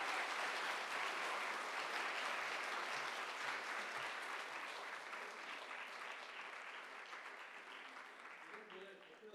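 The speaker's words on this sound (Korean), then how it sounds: "박수로 환영을 부탁드리겠습니다." Sunday worship congregation clapping in welcome for a group of program graduates, sustained dense applause that slowly thins out toward the end.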